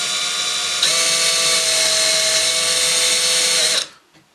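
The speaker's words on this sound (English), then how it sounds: "I'll put a piece of scrap wood underneath this, and then just drill straight through." A power drill with an 11/64 bit bores straight through wood backed by scrap wood in a woodworking shop. A loud, steady high whine runs for about three seconds, then stops abruptly as the bit breaks through.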